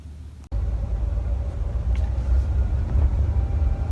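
Cabin of a 1997 Chevy C1500 pickup with a four-speed automatic, its engine giving a steady low rumble while driving on the road, loud and continuous after a brief cut near the start.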